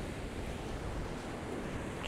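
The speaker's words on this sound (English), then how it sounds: "some of this wave action." Ocean waves break and wash over a rocky shoreline on the Llyn Peninsula coast in Wales, a steady close roar of surf with wind buffeting the microphone, no voices.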